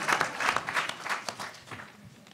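Audience applause at a mayoral candidate debate, a brief round of clapping that swells early and then thins out and fades.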